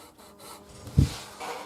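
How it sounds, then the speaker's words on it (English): The wooden edge of a Fender Telecaster guitar body is rubbed on light sandpaper fixed to a flat levelling beam, making a short, soft, near scraping stroke with one stronger rasp midway. "this is just a nice flat surface with a little bit of really light sandpaper on it"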